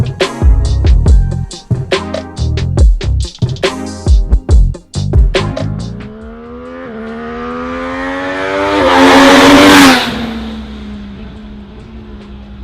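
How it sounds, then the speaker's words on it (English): An MV Agusta Brutale 800 Dragster RR motorcycle engine fires off a loud run of sharp throttle blips, then winds up in one long climbing rev that peaks and falls away. "The top-of-the-line MV Agusta Brutale 800 Dragster RR."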